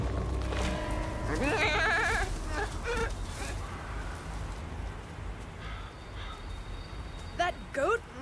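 A goat in an animated fantasy adventure film bleats in a wavering, quavering call near the start, followed by quieter animal and scene sounds and a short louder burst near the end.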